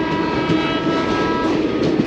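Secunderabad–Rajkot superfast express train 22718 running as it approaches Lingampally station, a loud continuous rolling rumble from close by with a sustained tonal horn-like drone layered over it.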